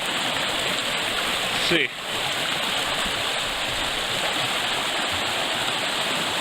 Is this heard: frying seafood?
no